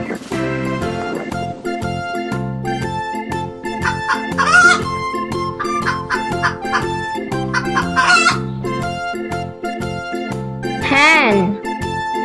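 Hen squawks and clucking calls rise in three bursts over upbeat repeating children's music, each call loud and close.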